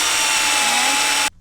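A power drill whines loudly and steadily while pre-drilling holes for van conversion wall framing in a Ford Transit, then stops abruptly.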